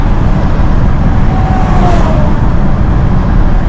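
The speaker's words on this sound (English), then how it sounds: "Trying to stay away from that truck right there because it's a bit loud." Loud, steady roar of heavy road traffic with a deep engine rumble from a loud truck close by, heard from inside a Toyota Camry, continuous throughout.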